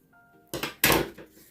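Paper being trimmed with a cutter to round off an envelope corner: two short, sharp crunching cuts close by, the second louder, followed by a faint rustle.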